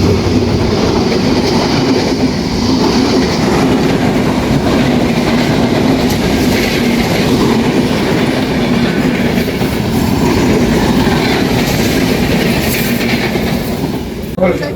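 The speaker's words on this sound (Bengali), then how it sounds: "আমরা এখানে পাঁচ মিনিট ওয়েট করতে না করতে ট্রেন চলে আসলো" A train arriving at a station in Sirajganj, Bangladesh rumbles steadily close by with a continuous clattering roar from wheels on track, loud throughout with faint voices beneath.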